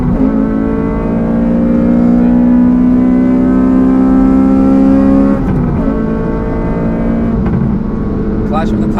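Honda Civic FD2 Type R with its K20 engine on track at the Nürburgring, a loud steady engine drone that drops in pitch as it downshifts, with a brief blip and gear change partway through, heard from inside the car.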